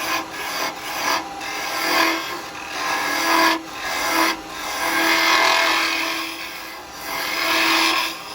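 Woodturning gouge hollowing the bowl of a small wooden scoop on a lathe, a steady close scraping rasp that swells and fades in repeated passes, with a faint hum underneath and no talk.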